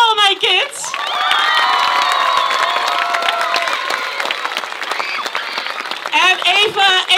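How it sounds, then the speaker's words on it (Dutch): Loud audience applause and cheering, with children shouting and whooping, for young theater performers at the close of a Sing the Musical stage show, sustained for several seconds and swelling again near the end. "mag een heel groot applaus voor al mijn kids"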